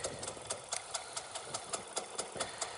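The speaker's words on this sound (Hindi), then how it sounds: "मतलब इंजन आइडल पे है" A Yamaha RX100 motorcycle engine idles close by with a steady, even putter of regular pulses, about four per second, and no one speaks.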